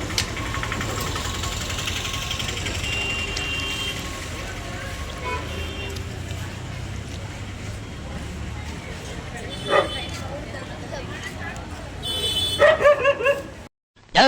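A dog barks a few short times near the end, over steady road rumble and people talking on a trip to Mantralayam.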